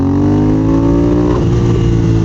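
A 2022 Triumph Speed Twin motorcycle accelerates hard in second gear, its twin-cylinder engine roaring loud and close with a steady rising drone and strong harmonic tone, no talking.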